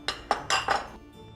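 Four quick clinks of a utensil against a bowl sound in an even rhythm while sieved flour is mixed into pumpkin cupcake batter, close and bright, followed by a soft fade.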